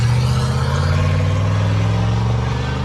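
A 1997 Chevy Silverado 1500 with a 5.7 liter V8 idling through its exhaust, a deep steady rumble held close and loud for the whole stretch, with a voice faintly beneath it.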